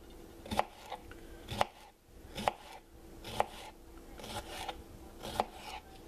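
Knife slicing cucumbers into half-inch to inch-thick rounds for pickles, with about six sharp, evenly spaced chops against a cutting board and a soft rustle between strokes, close and clear.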